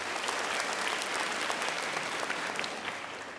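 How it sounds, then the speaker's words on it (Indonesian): Studio audience at an Indonesian motivational talk show bursts into sustained, dense applause, loud and even throughout with no talking over it. "Tepuk tangan sekali lagi untuk Pak Mario Teguh."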